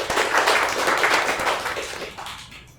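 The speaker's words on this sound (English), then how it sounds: "Applause for Noah, everybody." Audience at a crypto demo showcase clapping after a presentation, a dense burst of applause from a modest crowd that gradually fades out.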